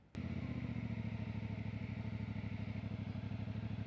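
Motorcycle engine running on a hillside road in Benguet, a close, steady idle with a rapid regular throb that starts abruptly after a brief click and continues unchanged.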